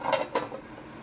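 Lid set onto a cooking pot of boiling moringa soup, two quick close metallic clinks followed by a quiet simmering hiss.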